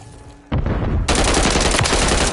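Gunfire in Modern Warfare 3 multiplayer, starting with a short burst and then becoming a sustained rapid stream of automatic shots, loud and close.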